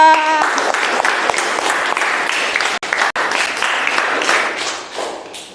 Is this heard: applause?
yes